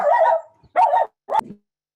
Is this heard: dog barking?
yes